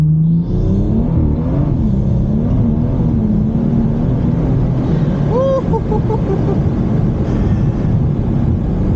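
A tuned car accelerates hard, its drag radial tires spinning. A loud engine drone climbs in pitch under heavy wind buffeting, with a brief chirp of tire squeal midway. A voice is faintly present.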